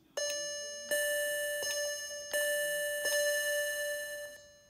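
Moog synthesizer pulse wave at 50% width, a bright buzzy tone struck as a series of separate notes, each attack sharp, then sustaining and slowly decaying, fairly quiet with no voice.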